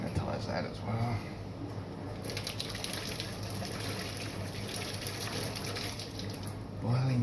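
Water running from a tap during home beer bottling, a steady hissing gush that stays even for several seconds, close by and moderately loud, with brief speech around it.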